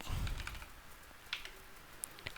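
Keystrokes on a computer keyboard while entering router NAT configuration commands, scattered soft clicks at an irregular pace with a few sharper taps, faint and close, with a low rumble at the start.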